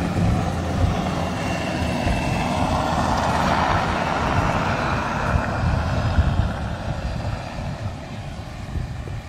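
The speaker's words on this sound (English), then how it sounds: "We got a black helicopter." A black helicopter passes overhead outdoors, its broad steady rotor and engine rumble holding at a constant loud level throughout with no talking.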